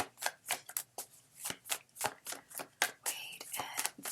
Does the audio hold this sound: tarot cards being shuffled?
yes